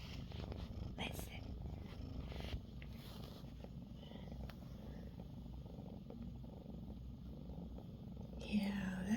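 A female cat purring in a low, steady, continuous rumble close to the microphone, quiet throughout, with a person's soft speech mixed in.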